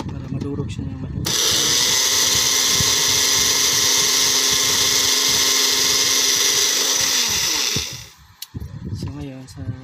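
A loud high-speed blender grinding eggshells roars steadily for about seven seconds with a coarse grinding edge, then cuts off, leaving quieter clatter and room noise.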